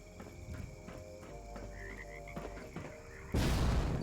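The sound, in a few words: frogs croaking in the video game Fallout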